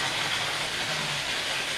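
A model railway train runs steadily, giving a continuous close hiss and rumble with faint rail clatter throughout, no voices.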